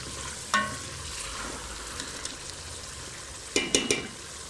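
A white bean (lobia) masala fries in a pan with a low, continuous sizzle, broken by a spoon clinking and scraping once early and in a quick cluster of knocks near the end; no one speaks.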